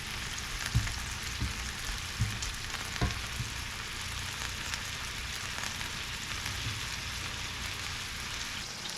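Venison and sausage meatballs brown in a hot pan with a steady, dense sizzle throughout, broken by a few soft knocks early on as they are turned, no voices.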